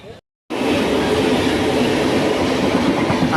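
The Sapthagiri Express rolls along the rails between Tirupati and Chennai, a loud, steady clattering rumble of wheels heard from inside the carriage after a brief cut of silence.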